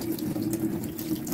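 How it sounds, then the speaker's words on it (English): Water running steadily from a hot and cold kitchen mixer tap into a sink, a constant close hiss and splash with no pauses or talk. "So this is a hot and cold water mixer."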